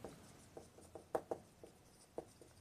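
Pen strokes on paper during a class 12 maths lesson, a series of short, soft scratches and taps in an irregular rhythm, close and quiet with no talk.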